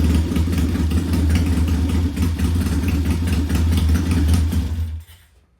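A Triumph-style T100 motorcycle engine runs on one of its first starts, a loud close steady idle with a low thrumming pulse that cuts off near the end, leaving quiet.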